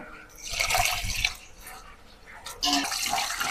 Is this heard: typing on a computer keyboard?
no